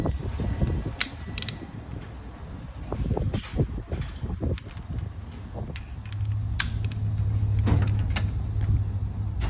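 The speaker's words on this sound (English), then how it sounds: "I have my torque wrench here so that I can torque it to how it's supposed to be." A torque wrench on the rear brake caliper bolts during a brake pad change: dense mechanical clicking and ratcheting, close and steady, over a low background hum, with no voices.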